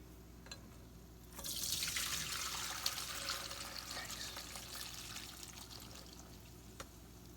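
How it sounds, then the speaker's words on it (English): Liquid pours through a strainer in a brief, splashy gush that gradually tapers off into quieter trickling, with a few faint clinks around it. "hopefully I don't pour this on myself."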